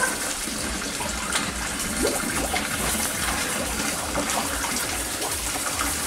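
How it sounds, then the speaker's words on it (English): Water gushes steadily into a trough in a sow pen, a constant broad rushing stream that stays even and loud throughout, with no talking over it. "I'm gonna put some more water in there."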